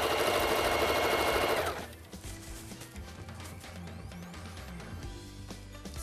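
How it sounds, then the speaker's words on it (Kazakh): A sewing machine stitches fabric in a loud, fast, even mechanical whir for nearly two seconds, then stops, leaving quieter clicks and room noise behind. "Енді жай тігіспен жан тігістен тігіп шығамыз."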